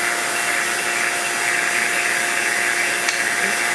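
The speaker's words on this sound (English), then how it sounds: "let's turn off the pump" A pump for a vacuum chamber, used in an ice experiment on iron sulphate, running loud and close as a steady, unbroken whine and roar.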